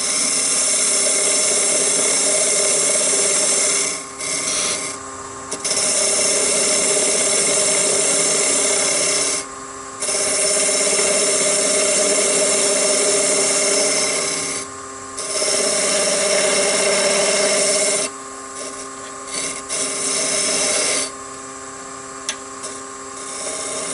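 Wooden segmented bowl blank spinning on a lathe while a 1/8-inch parting tool cuts in, giving a loud steady scraping, rasping whir broken by several short pauses and changes in pressure.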